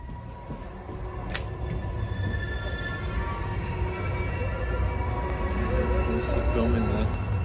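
A train squeals on its rails at a stop, making a continuous, high, grinding screech with wavering tones over a steady low rumble, heard from fairly close for the whole stretch.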